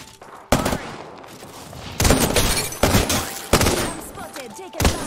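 Gunfire in the Apex Legends video game comes in sharp, loud bursts, several separate volleys spaced across the stretch, each snapping in close with brief quieter gaps between.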